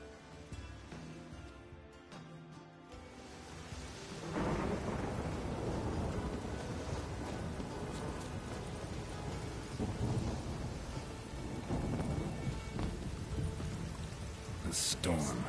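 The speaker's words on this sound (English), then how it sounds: "A storm, damn it." A thunderstorm in the video game Witcher 3 breaks in with a loud roll of thunder, then steady heavy rain pours over the rest, with brief bursts of talk.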